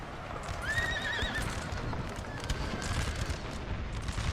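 Horse artillery horses in the Napoleonic Total War 3 game whinny clearly in a long, wavering neigh, then fainter, with steady hooves and a noisy battle rumble underneath.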